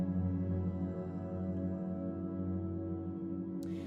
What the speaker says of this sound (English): coming out as a texture that will never be the same twice.